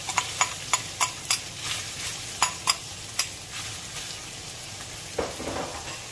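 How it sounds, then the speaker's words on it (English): Red onions and garlic sizzle steadily in a pan, with a run of sharp scraping and tapping spoon strokes near the start as they are stirred, then a softer fry continues. "We are going to wait for the garlic to turn into a golden color. And then we're going to add the red onions."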